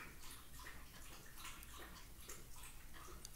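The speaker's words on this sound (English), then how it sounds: "And my dog is drinking water in the background," A dog laps water in steady, close, repeated wet splashes, forming a continuous sloshing rhythm with no voices over it.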